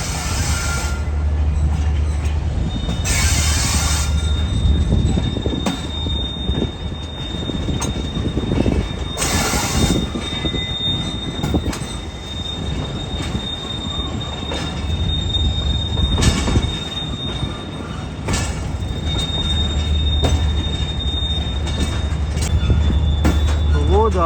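Bolan Mail passenger train rolling on rails in the morning, a continuous rumble with steady wheel squeal and rhythmic clatter from on board, occasional louder bursts, and faint talk at times.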